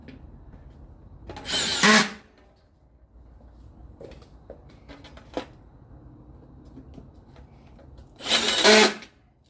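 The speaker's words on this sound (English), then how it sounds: "This will just drill straight in." A power drill drives screws into an aluminium cover track for a glass sliding door, giving two short, loud whirring bursts several seconds apart with quiet pauses and light handling clicks in between.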